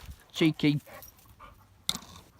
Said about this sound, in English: He's a bit of a hyper dog.